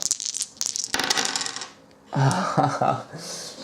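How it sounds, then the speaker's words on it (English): Dice rattle and clatter as they are rolled for damage in the Earth Reborn board game, a burst of tumbling clicks followed by a second bout of rolling on the table. "now we get to roll for damage"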